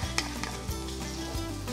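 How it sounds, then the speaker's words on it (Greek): Spices and ginger sizzle and fry in a pot with a little fat, a close, steady crackling hiss broken by a few light clinks of a utensil stirring. "Να τα δουλεύουμε πρώτα λίγο εδώ, σε αυτή τη λίγη λιπαρή ουσία που υπάρχει μέσα στην κατσαρόλα, ώστε να αρχίσουν να βγάζουν τα αρώματά τους"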